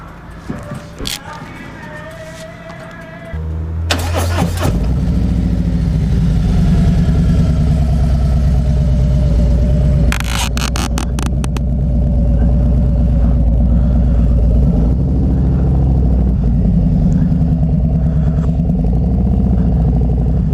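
A Harley-Davidson Road Glide engine cranks with a short starter whir, then catches into a loud, steady, lumpy idle with a deep rumble that holds close by for the rest of the stretch.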